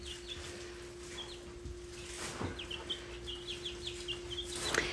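Farm chickens cluck in short, scattered bursts over a steady low hum, kept near ducks and turkeys on a Virginia dairy farm; no one talks.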